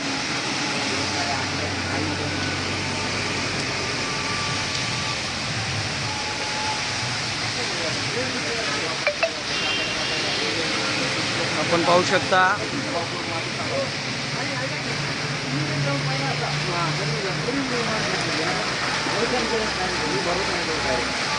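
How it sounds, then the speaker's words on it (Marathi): Heavy rain with wind pours over the town of Ardhapur, a constant broad roar throughout, with someone speaking over it. "त्यानंतर आज या घडीला पाऊस चालू आहे"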